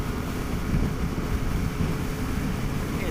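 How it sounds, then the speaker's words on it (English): Steady roar of strong wind buffeting a motorcycle rider's helmet on a winter road along Scotland's north coast, a continuous loud low rumble filling the whole moment with no talking. "that's about a 40-mile-per-hour gust or more right there"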